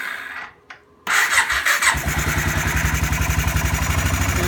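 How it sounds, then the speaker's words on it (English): Kawasaki Bayou KLF400 ATV engine with a weak battery, brief click and starter whir, then it catches and settles into a steady, rhythmic close idle, no talking. "I'll crank it up one more time here"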